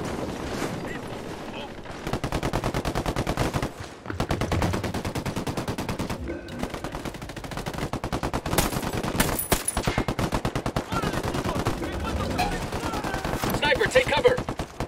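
Machine gun fire in Ghost Recon Wildlands, long rapid automatic bursts rattling almost nonstop with brief pauses, loud and close, with voices speaking over the shooting.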